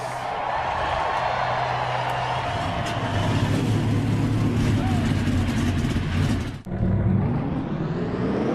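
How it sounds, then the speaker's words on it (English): Stock car engines fire up and settle into a loud, continuous collective roar before the Daytona 500, heard as a broad engine drone with a brief dropout near the end. "Drivers, start your engines!"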